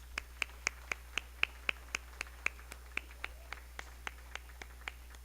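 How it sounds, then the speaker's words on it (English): A small group applauds at a company service awards event with sparse, evenly spaced single claps that ring out clearly in a quiet room, slowing and thinning over several seconds, with steady hum underneath. "So let's give them a round of applause."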